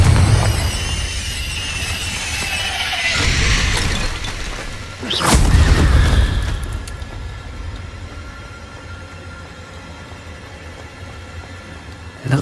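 A Confringo blasting spell in Hogwarts Legacy strikes inside a cave with a sharp crack and a booming, shattering explosion, followed by a rumbling, whooshing tail that fades into quiet ambience before another burst begins at the very end.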